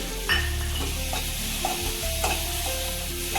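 Ingredients for fasting khichdi sautéing in a pan, a loud, continuous close-up sizzle with a few soft stirring scrapes on top and no voices.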